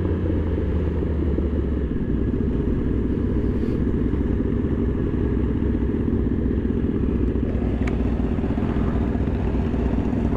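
Kawasaki H2 supercharged sport motorcycle engine droning steadily during a group ride, a continuous loud low rumble with no clear revs or pauses, sitting alone without talk.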